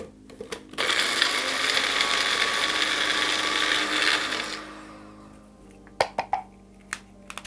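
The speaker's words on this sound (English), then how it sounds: "We're gonna put that onto the magic bullet and we're gonna grind it up until it looks like a smaller powder." A Magic Bullet blender grinds dried chilies, seeds and bay leaves with a loud, steady whirring roar for about four seconds, then winds down, followed by a few sharp clicks and knocks.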